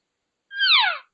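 A person imitates an elk cow's voice mew, adding a throaty G-sound vibration: one close, clear call of about half a second that slides downward in pitch, with silence before and after.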